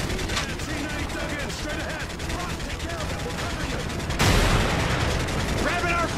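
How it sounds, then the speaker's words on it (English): Russian tank fire on a bridge in Call of Duty: MW3 comes as dense, continuous rumbling gunfire and blasts, with a heavier boom near the end, under overlapping voices. "we have Russian armor firing on the bridge"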